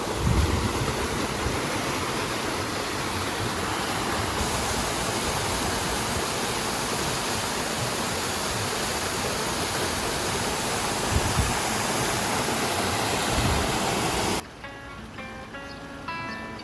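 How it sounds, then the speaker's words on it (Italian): A waterfall roars steadily, heard from its upper part, a loud dense rushing wash of water that fills the scene without pause until it drops away near the end. "Siamo arrivati alla cascata dalla parte alta"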